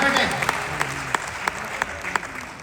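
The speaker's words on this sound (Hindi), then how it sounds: "एक बार जोरदार तालियां बजाओ" Enthusiastic audience applause at a Hindi youth poetry recital, a dense sustained clapping from a crowd with a few sharper claps standing out, and voices faintly under it.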